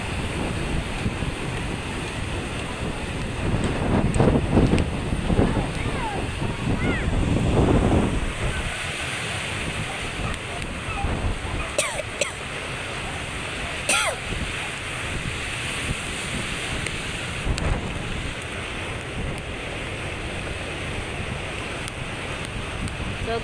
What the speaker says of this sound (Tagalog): nakakatakot pong alon.